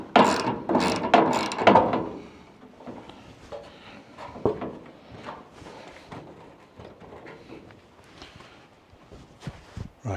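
Screws being driven back into a door with a ratcheting tool on a rustic homestead: a close, steady run of mechanical clicks and ratchet rasps in bursts, louder at the start, then sparser turns with pauses.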